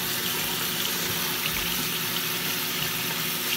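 A tap runs steadily into a sink while someone washes their face, a continuous close hiss of flowing water with no voices.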